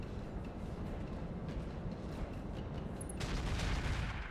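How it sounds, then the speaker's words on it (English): A UAC-20 autocannon in the RogueTech BattleTech game fires at a light standard turret. It is a loud, dense, unbroken stream of rattling reports that turns harsher and brighter near the end, with no voices. "it does fire on this light standard turret"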